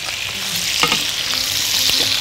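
Potatoes and mixed vegetables with thyme fry in a pan while being stirred together, giving a continuous loud sizzle broken by a few short scraping stirs.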